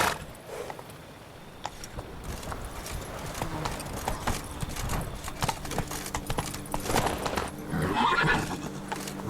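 Roach, the horse in The Witcher 3, galloping with continuous hoofbeats, plus a whinny or snort and some game ambience and rustling. Nearby and moderately loud, with no talk.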